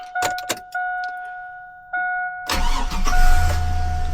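A GMT800 truck engine cranks with a couple of short starter bursts, then catches and starts into a loud, rumbling idle. Steady tones from a warning chime ring throughout.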